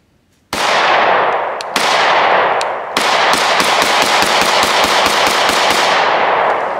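A Canik MC9 pistol fires a loud close burst of rapid shots, with a short pause, then a fast steady string of sharp cracks ringing out one after another.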